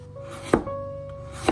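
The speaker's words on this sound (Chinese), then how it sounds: "准备1小块去皮的胡萝卜，先切成薄片，然后再切成小条" A knife cuts through a small peeled carrot on a board, two crisp, close chops about a second apart over a faint background hum, with no talking.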